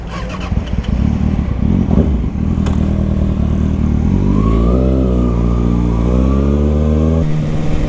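A motorcycle engine revs loud and near, first as rough clattering idle, then in a long rising and falling rev before dropping back to idle.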